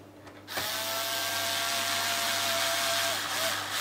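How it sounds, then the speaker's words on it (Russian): A small electric screwdriver whirs continuously while driving bolts back into a Samsung NP300V5A laptop, a steady close high-pitched motor hum starting after a brief pause and running nearly four seconds. "И дальше в противоположном порядке вкручиваем все болтики."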